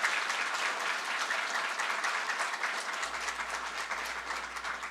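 Applause from a church congregation at a Sunday worship service, dense steady clapping filling the sanctuary at an even level throughout, without voices over it.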